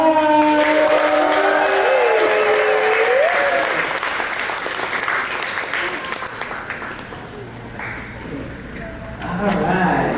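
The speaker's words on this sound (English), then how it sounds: "We give a big round of applause to Marissa Rojas!" Sustained audience applause at a creative summit welcoming a panelist, a dense wash of clapping with some voices mixed in, loud at first and easing slightly before swelling again near the end.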